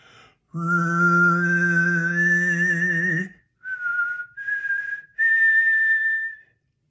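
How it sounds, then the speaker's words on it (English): A sustained whistle-like tone held for a few seconds, followed by three shorter rising whistled notes, alone and fairly loud. "I can't really whistle with these luscious lips, but I'll try to demonstrate."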